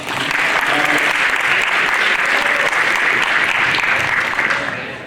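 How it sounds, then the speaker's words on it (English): A crowd applauds steadily and loudly for about five seconds, a dense wash of clapping that tapers slightly at the end. "Give them a round of applause."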